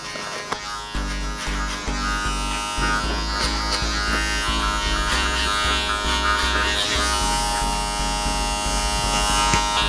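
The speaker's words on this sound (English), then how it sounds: "So we'll just put a bit of comb, clipper over comb, and we're just trying to graduate that in to the top." Electric hair clippers buzz steadily and loudly at close range as they cut hair clipper-over-comb during a low mid skin bald fade, with a continuous drone and slight shifts as the blades move through the hair.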